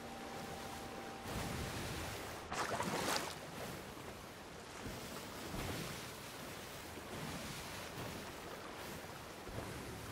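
Ocean waves in the video game Sea of Thieves wash in a steady broadband roar, with one louder surge breaking partway through, and no voices over the water.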